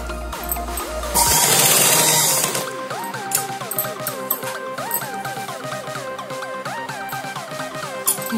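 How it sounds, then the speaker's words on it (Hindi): A sewing machine stitching elastic onto a cloth face mask made from waste clothes, a steady run of repeated mechanical stitching with a brief louder burst near the start. "ये वाला इलास्टिक अब हमारा अंदर की तरफ आएगा और इसके ऊपर सिलाई लगेगी के पूरा"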